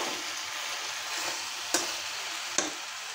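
Curry masala for a prawn dish with jackfruit seeds fries in a pan with a steady, close hiss of sizzling, broken by two sharp scraping taps of the spoon against the pan.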